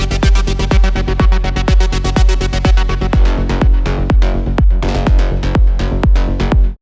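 Synth bass shots processed with EQ, OTT compression and Decapitator saturation (drive 4, 60% sidechain) repeat in a steady, punchy electronic rhythm alongside crisp drum hits, loud and dense, with no talking.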